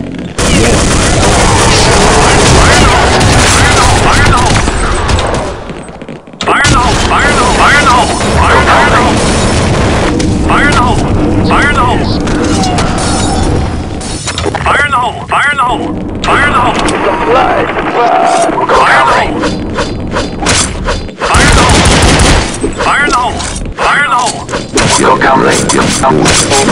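A Counter-Strike zombie escape round erupts with loud, continuous grenade blasts and rapid gunfire, a dense wall of booming combat that drops out for brief gaps, with shouted voices faintly mixed in.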